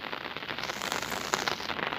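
Rain falling steadily on village roads while someone walks through it, a dense, even hiss of drops pattering on surfaces with small crackling spatters, close and continuous, no talking.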